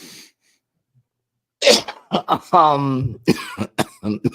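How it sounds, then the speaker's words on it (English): A burst of coughing close to the microphone, followed by rough, raspy throat sounds and a few more short coughs. "Cough a little bit more into the mic."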